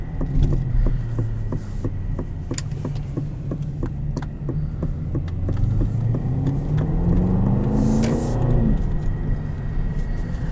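A 2021 Aston Martin DBX SUV driven in sport mode, a steady deep engine rumble from inside the cabin with a rising rev sweep near the end, loud and continuous.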